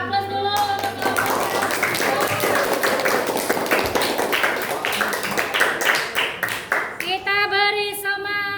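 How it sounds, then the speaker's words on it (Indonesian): A classroom group claps in a dense burst of sustained applause for the next group, with a voice speaking over the clapping near the start and end. "kita beri aplaus dulu untuk kelompok"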